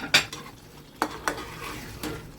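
A spoon stirs fried paneer into a butter masala gravy in a pan, giving a few separate scraping clinks against a soft, steady sizzle, close by with no talking.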